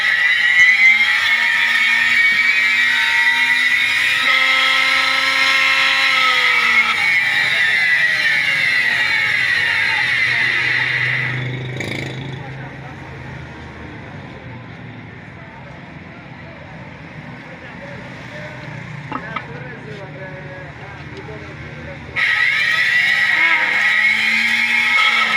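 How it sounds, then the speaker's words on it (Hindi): An electric grinder grinds a whole-spice yakhni pulao masala mix with a loud whirring drone that drops to a lower, quieter rumble midway before surging loud again near the end. "तो तमाम मसाला हम ग्राइंडर में डाल देते हैं।"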